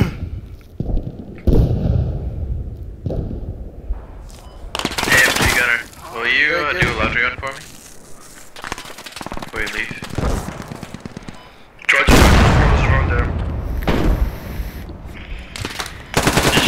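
Bursts of machine gun fire from an enemy in a military squad shooter game rattle in repeated volleys, loud and close, mixed with thuds and players talking over the radio.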